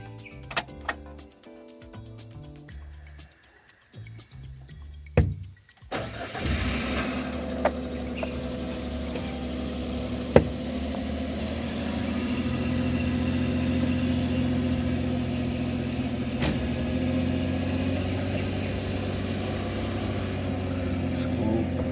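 A Suzuki DA17 engine cranks briefly and starts, then settles into a steady mid-pitched idle with a faint ticking, heard close and alone, after some quieter electronic tones at the start.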